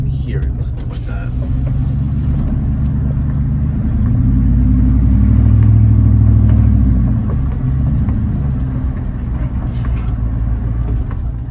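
A car fitted with long tube headers rumbles nearby with a deep, continuous exhaust drone that swells to a louder peak midway, then eases back to a steady idle-like growl.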